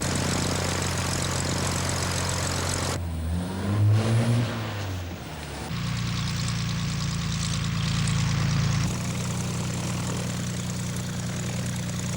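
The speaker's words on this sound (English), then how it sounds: "they're going off in a private aircraft" A propeller aircraft engine used as a radio drama sound effect for a private plane drones steadily, its tone shifting and swelling in a few distinct segments, with no talking over it.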